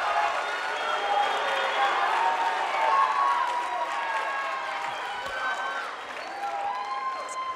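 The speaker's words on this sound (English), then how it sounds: "Let's give this person a big," A student assembly audience in a hall breaks into applause and cheering, a dense wash of clapping from many hands with scattered shouts that fades toward the end.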